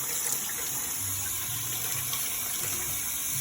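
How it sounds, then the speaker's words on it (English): Tap water runs steadily while hands are washed under it in a home kitchen during corn tortilla making, a continuous even hiss with no pauses or talking. "I'm going to go ahead and wash my hands."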